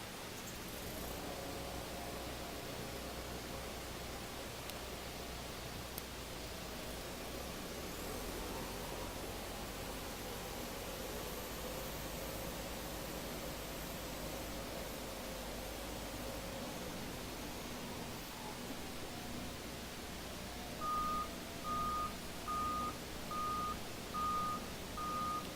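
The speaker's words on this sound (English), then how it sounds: "I will ask Mitch to actually turn the machine around for us right now" A Skyjack ZB2044 telescopic handler forklift turning around, its engine a low steady rumble at a distance, followed near the end by a run of evenly spaced reversing beeps.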